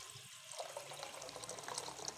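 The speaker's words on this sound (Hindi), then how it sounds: "चूल्हा चला देते हैं, दूध डाल देते हैं।" Milk poured into a pot on a village stove while making sweet vermicelli: a steady, continuous liquid pour, fairly close and even in level, with no talking.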